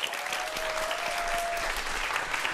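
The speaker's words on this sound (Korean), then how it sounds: "오늘의 주인공 두 분 박수로 환영해 주시기 바랍니다." A studio audience applauds steadily and densely to welcome two guests onto a television talk show.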